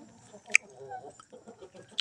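Shamo chickens clucking softly in a coop, with two sharp, brief calls standing out over low, intermittent murmuring clucks at a moderate distance.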